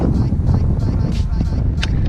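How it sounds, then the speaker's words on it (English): A steady 12-mile-an-hour wind sweeps across a pond, buffeting the microphone with continuous loud rumbling gusts throughout. "This is 12-mile-an-hour wind all day coming across"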